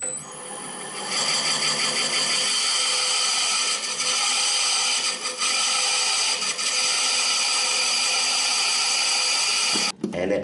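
A drill bit boring into wood held on a wood lathe, heard as a loud, steady high-pitched whine with a rough grinding texture, continuous and close, with a brief dip in the middle and an abrupt stop at the end.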